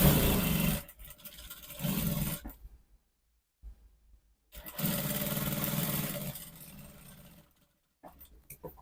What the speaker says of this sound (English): Make sure everything is well aligned as you are stitching.